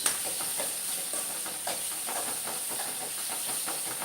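Fenugreek and ponnaganti greens fry in a pan over a high flame, giving a steady, close hiss broken by faint crackles and soft stirring scrapes.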